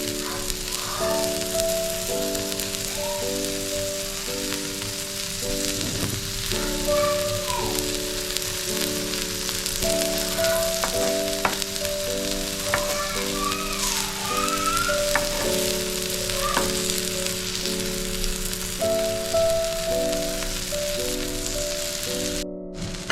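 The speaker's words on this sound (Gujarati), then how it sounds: "ફરી હવે આપણે તેલ ઉમેરી દઈએ અને ધીમા તાપે એને તળવા દઈએ." Cabbage uttapam fries in oil on a pan over low heat, giving a steady, close sizzle with light crackling and faint rattling that runs unbroken throughout, with no voices.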